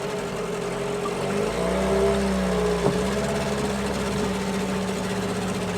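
Two questionable boat engines running together and shifting in and out of gear, a steady mid-pitched drone with low harmonic hum, rising slightly then settling, with one brief knock partway through.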